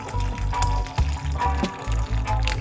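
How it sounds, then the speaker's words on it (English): Liquid poured off from a container, a close glugging, gurgling pour in short pulses, with no voices over it. "Pour it off."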